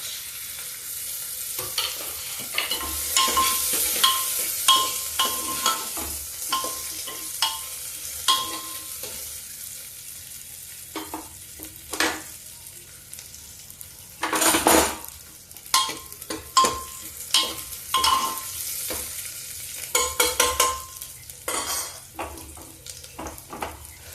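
Steady sizzling of garlic and onion frying in a pan, with intermittent stirring scrapes and clinks of a utensil; close and moderately quiet, no talking.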